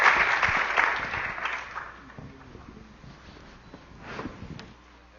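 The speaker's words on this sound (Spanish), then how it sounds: "Pido una ronda de aplausos para los panelistas y para nuestro presentador, Vladimir" Audience applause for panelists at a conference talk event, loud at first and fading out within about two seconds, leaving quieter scattered sounds.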